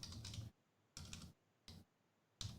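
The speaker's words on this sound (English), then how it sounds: "And I'm typing it in, Jay, because your hands are full." Bursts of typing on a computer keyboard, three or four quick clusters of key clatter separated by short pauses, close and fairly quiet with no talk.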